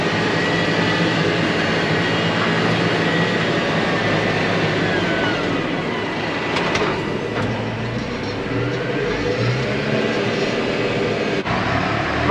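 Farm tractor and trailer reversing at silage baling time, a continuous loud low engine drone with steady rumble throughout and a brief higher mechanical whine midway, no talking.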